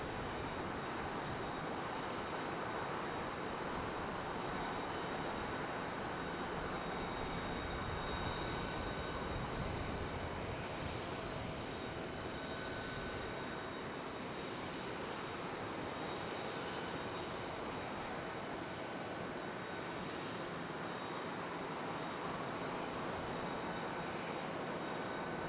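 Airliners arriving at Charlotte Douglas airport give a steady, broad roar of jet engines that holds evenly for the whole stretch, with no talk over it.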